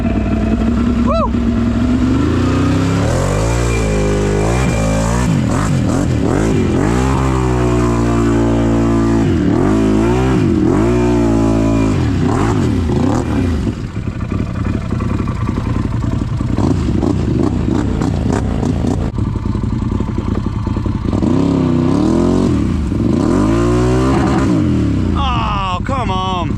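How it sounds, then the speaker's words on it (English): A Can-Am ATV engine revving hard as it climbs a steep hill in full drive, loud and close, rising and falling repeatedly with clattering, while someone talks over it. "Let's see if a Can-Am can make it up there, because the 500 did not."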